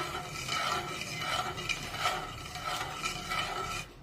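A spoon stirs sugar into water in a pot for syrup, rhythmic scraping strokes close up with a faint simmering sizzle underneath and no voices.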